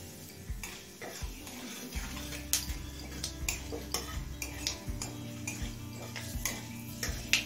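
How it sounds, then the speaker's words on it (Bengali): Panch phoron five-spice seeds frying in hot white oil in a kadai over high flame, a low steady sizzle under repeated close clinks and scrapes of a spoon stirring against the pan. "পাঁচফোড়নটা লাল করে ভেজে নিলাম।"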